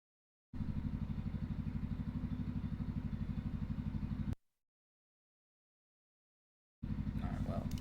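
Loud motorcycle arriving, its engine a rapid, steady close-up pulsing throb that cuts out abruptly and then returns for a few seconds.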